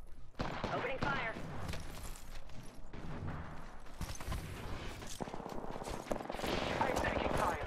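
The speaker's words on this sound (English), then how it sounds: "Opening fire." Rapid gunfire and bursts from an Apex Legends match blaze almost continuously at close range, with a player's voice talking over the shooting throughout.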